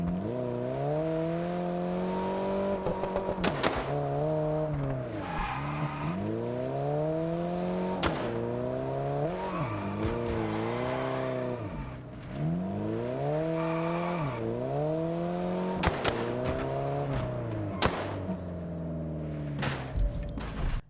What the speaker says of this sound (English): Can we all agree right now that the backfiring sounds are a bit insane?